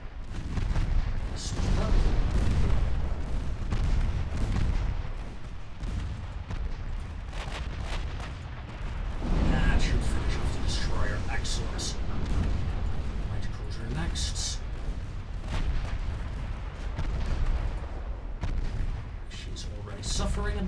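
Warship main guns fire in the naval battle game Ultimate Admiral Dreadnoughts, with repeated heavy booms and rumbling blasts rolling through the scene and a voice speaking over the gunfire.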